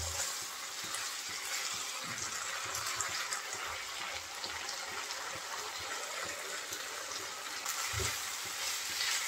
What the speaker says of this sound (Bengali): এখন ভালো করে নেড়ে চেড়ে ভেজে নেব।